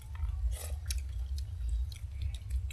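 People chewing mutton at a family Christmas feast: moist, close mouth sounds and soft crunches recur irregularly over a constant low rumble of room noise.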